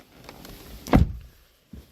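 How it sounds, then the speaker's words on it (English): The door of a 2018 Toyota Avensis 1.8 Valvematic Excel slams shut with one loud, close thunk, preceded by faint rustling and followed by a short soft knock. "Just go and shut the door in case somebody comes along this lane"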